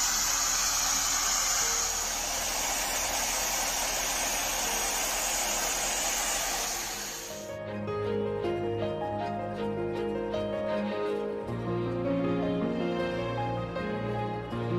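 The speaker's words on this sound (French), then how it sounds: "Le réchauffer avec un sèche-cheveux." A hair dryer blows with a loud, steady broadband rush for about seven seconds, then cuts off, leaving quieter tonal background sound.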